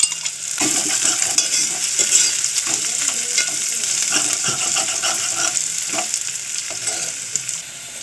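Crushed ginger sizzles and fries in a pan while a utensil stirs and scrapes steadily, a continuous close crackle with occasional clinks.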